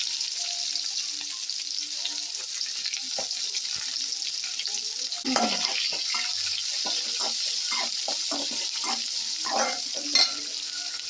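Onions frying with chana dal in a pan, an airy steady sizzle overlaid by a burst of stirring scrapes and clatters in the second half, close and moderate in level, no speech.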